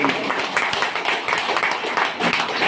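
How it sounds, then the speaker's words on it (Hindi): Loud clapping from an audience at a Sarbashri Herbs business talk, a dense rapid patter of many hands close by throughout the short stretch. "एक बार सर्वश्री के लिए जोरदार तालियां होनी चाहिए।"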